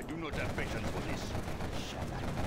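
Quad cannons unleash rapid, continuous bursts of autocannon fire during a battle against guard towers in C&C Generals Zero Hour, dense and unbroken for the whole stretch, mixed with other battlefield noise.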